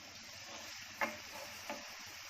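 Onions fry in about three big spoons of oil, turning golden, with a soft steady sizzle and two brief stirring scrapes near the start and middle.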